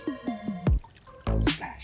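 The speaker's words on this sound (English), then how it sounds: "We're going to add a splash of vanilla." A splash of vanilla pours into pumpkin spice waffle batter, heard as a quick run of close liquid drips followed by a louder pouring burst, with small wet plops around it.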